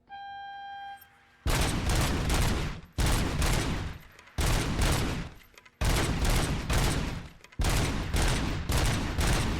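Sustained bursts of automatic gunfire from a gun in RoboCop: Rogue City, loud and close, firing in about five long volleys separated by short pauses after a brief tonal intro.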